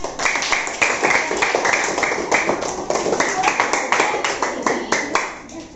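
A classroom of children claps for their classmates, producing a fairly loud run of distinct, rhythmic hand claps that come in quick bursts throughout, with some voices mixed in.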